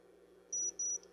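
A continuity tester sounds two short, high, steady beeps in quick succession while probing a RAM chip on a broken Commodore 64 board, clear and close over a low hum.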